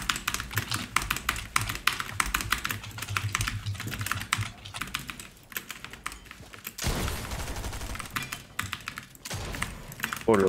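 Fast, loud computer keyboard typing goes on almost nonstop during a Fortnite match. The clattering keystrokes come in dense bursts with a brief pause, and game sounds sit underneath.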